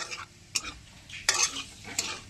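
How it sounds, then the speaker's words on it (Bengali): Cumin and dried red chili tempering hitting hot oil, giving short bursts of sizzle and crackle with a few spoon stirs and soft pan clinks, close up and moderately loud with no talking. "জিরে আর শুকনো লঙ্কা ফোড়ন এর মধ্যে দিয়ে দিচ্ছি"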